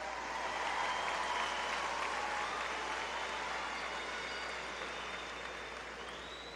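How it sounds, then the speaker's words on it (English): A crowd at the Lowell High School graduation ceremony applauds its graduates, a broad, steady wash of clapping and cheering that holds loud for several seconds and then begins to fade slightly. "Let's give a real round of applause to our graduates"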